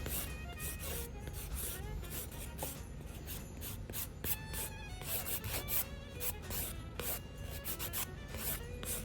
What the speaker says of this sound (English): I'm gonna grab the other side of the file. I believe it's the 80 grit file, and just smooth it out a little more